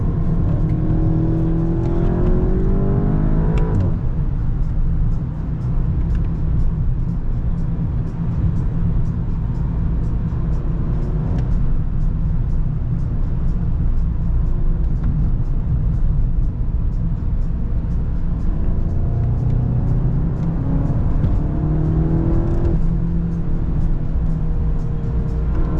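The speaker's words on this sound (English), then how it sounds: "That M3 though sounds mental, man." A BMW M3 running on track at Lakeside Park, heard from inside a Mk8 Golf, a loud steady engine drone with rising and falling revs and shifts throughout.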